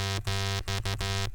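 Synth bass from Ableton's Operator driven through the Pedal effect's distortion mode, a buzzy, gritty tone played as a few short pulsing notes separated by brief gaps.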